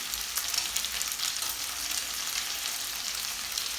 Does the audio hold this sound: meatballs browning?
yes